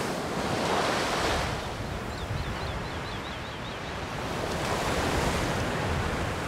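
Ocean waves wash onto a small secluded beach in A Plague Tale: Requiem, a steady loud surf roar with soft swells, wind mixed in and faint bird chirps behind.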